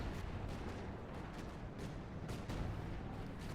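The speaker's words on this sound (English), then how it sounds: "Artillery coming down." Artillery fire in the World War II strategy game Company of Heroes 2: a dense, steady rumble of booming blasts that overlap continuously at moderate loudness.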